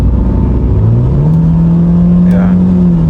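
A BMW E90 sedan accelerates hard, heard from inside the cabin as a loud, steady engine drone whose pitch climbs and then holds while the car pulls. A faint whoosh passes partway through.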